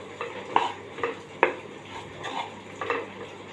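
A spoon working through a potato masala filling with coriander in a metal pot, giving soft scrapes and a few sharper clinks in an uneven rhythm, close by and without talking.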